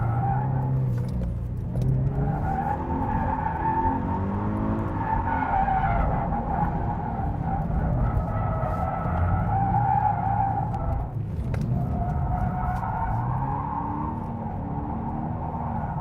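Car tires skidding and squealing continuously through a drift on a track, loud and close over a droning engine with sliding pitch shifts, with no speech.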